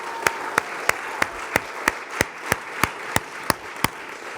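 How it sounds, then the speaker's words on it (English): About a dozen single sharp claps spaced evenly apart from an audience at a charitable giving kickoff event, each one distinct and fairly close, with quiet background between them. "Let's give ourselves a round of applause"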